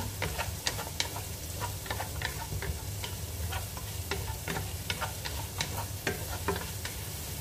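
Food frying in a pan with a little cooking oil, a steady close sizzle broken by scattered crackles and pops throughout.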